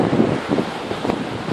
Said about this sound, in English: Yeah, it's windy as well